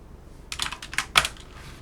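Quick bursts of keystrokes on a computer keyboard as a Vim command and filename are entered, several light clicks clustered together, then a firmer final tap.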